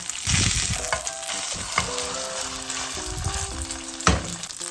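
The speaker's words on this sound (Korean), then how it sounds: "달군 팬에 올리브 오일을 두르고 소고기 패티를 구워준다" Beef patty frying in olive oil in a hot pan over medium heat, a loud steady sizzle with crackling spatters and occasional scraping or clatter, with no voices.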